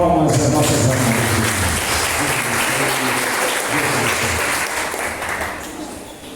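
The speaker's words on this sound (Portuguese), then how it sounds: "Uma forte salva de palmas às nossas irmãs." A church congregation gives a strong round of applause for the sisters during a communion service, dense clapping filling the room steadily and then tapering off toward the end.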